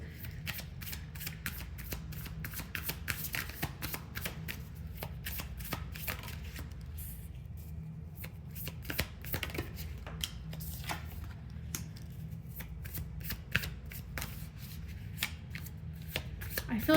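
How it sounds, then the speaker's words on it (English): Tarot cards are shuffled for a reading: a steady run of quick, crisp riffling snaps repeats close up for the whole stretch over a low background hum. "So let's pull some cards and see what this reading entails."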